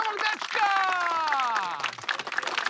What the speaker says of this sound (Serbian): aplauz za novog dečka!